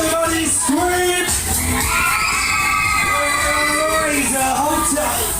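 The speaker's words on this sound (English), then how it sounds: "Now everybody scream." Riders on a No1 Waltzer fairground ride scream and whoop together in a loud, sustained crowd roar, with rising shrieks and shouts layered over the ride's steady noise and music.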